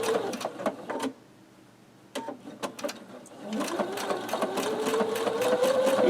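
A sewing machine stitches appliqué fabric for a heart quilt block, running in bursts: short stitching runs, a pause of near quiet, then a steady, louder run that builds toward the end.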